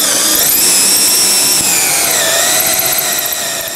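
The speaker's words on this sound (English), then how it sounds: "we got it locked in, and we're going to drill our hole" A power drill boring a 90-degree hole in a Skybolt PPG paraglider frame part, a loud, steady high-pitched whine that holds for several seconds and dips slightly in pitch as the bit bites, with no talking.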